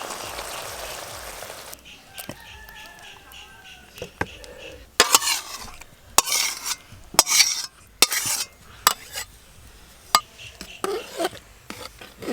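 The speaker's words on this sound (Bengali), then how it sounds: "মশলা কষা হয়ে গেছে, এবার হাঁড়িতে ঢেলে দেবো।" Cooked spice paste is poured into a cooking pot and stirred, producing sharp repeated metal clanks and scrapes of a spoon against the pot over a faint background hum.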